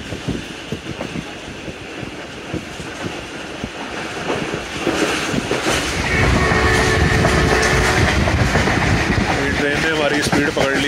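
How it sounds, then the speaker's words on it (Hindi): Khyber Mail passenger train picking up speed alongside the GT Road near Akora Khattak on the Peshawar–Rawalpindi line at night; a steady rolling rumble and rail clatter swell louder midway and hold, heard from on board. "ट्रेन ने हमारी स्पीड पकड़ ली है और जीटी रोड के साथ साथ दौड़ रही है अब"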